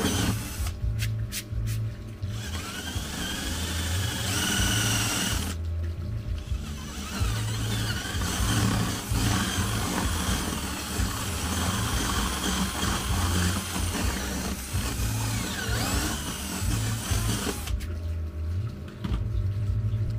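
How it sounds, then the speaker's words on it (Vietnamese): A power drill fitted with a hole saw bit bores holes during a home speaker repair, a loud continuous whirring grind that runs for most of the stretch, with short pauses where the drill stops. "Đây là mình khoan lấy lỗ trước nha các bạn."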